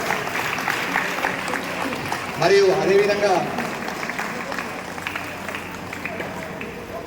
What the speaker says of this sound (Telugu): క్లాప్స్ తోటి స్వాగతం.